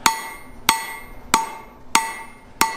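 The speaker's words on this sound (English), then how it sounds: "I'm gonna give it a couple blows on each side, rotate back and forth." Hammer blows landing on hot steel at a coal-forge anvil, five sharp ringing strikes at a steady, unhurried rhythm, each one followed by a long metallic ring that fades before the next. The strikes are close and clear, with no voices over them.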